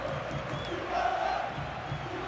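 A stadium crowd of football fans roars in the PES 2019 video game, a steady chanting wash of sound with a brief swell in the middle, heard alone and at moderate level.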